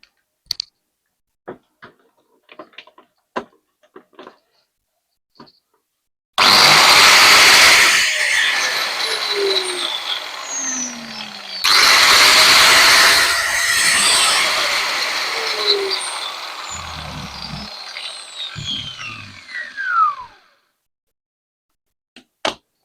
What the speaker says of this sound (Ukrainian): щоб перевірити чи працює в нас болгарочка. Вмикаємо дріт в мережу.